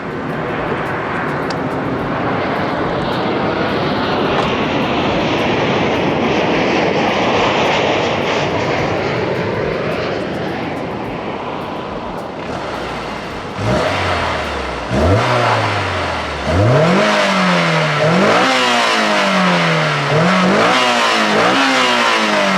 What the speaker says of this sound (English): So I'll give you guys some revs, even though the car, it literally is bone stock.